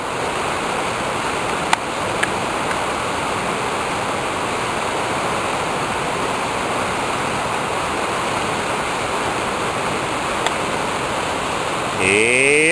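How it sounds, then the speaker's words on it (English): Churning river water roars in a steady broadband rush throughout, loud and continuous, with a few brief clicks and a short disturbance near the end. "Those waters are churning."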